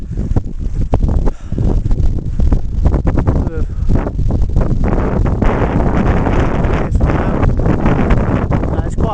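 Strong gusting wind buffets the microphone on the Rhyd Ddu path up Snowdon, a loud, continuous roar that fills the whole clip.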